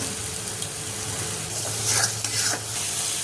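Masala with Kashmiri chili, turmeric and salt sizzling in a pan while being stirred, a continuous close frying hiss with scraping stirs swelling around the middle.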